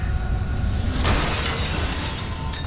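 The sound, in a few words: glass window breaking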